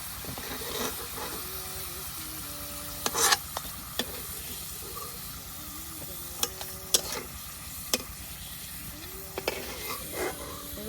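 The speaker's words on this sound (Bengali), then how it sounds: "তো আমার কয়েকটা কিন্তু কড়া ভাজা হয়ে গেছে" Potato chips fry in hot oil with a soft, steady sizzle, broken by a few sharp clinks and scrapes of a utensil stirring and lifting them out.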